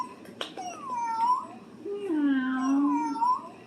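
A battery-powered toy cat gives two drawn-out electronic meows with rising and falling pitch, close and fairly clear, against a quiet indoor background.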